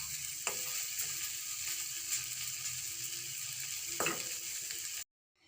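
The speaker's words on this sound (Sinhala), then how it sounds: "යාළුවනේ මම කතරු මුරුංගා කොළ තෙල් දැම්මා." Moringa (drumstick) leaves frying in hot oil, a steady loud sizzle and crackle, with a couple of clattering stirs before it cuts off abruptly.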